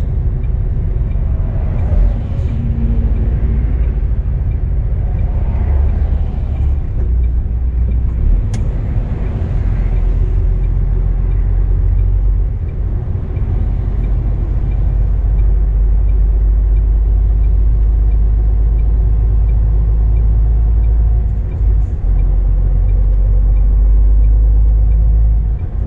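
A loaded truck rolls slowly, its deep engine rumble steady and close throughout with broadband road noise and no break in the drone.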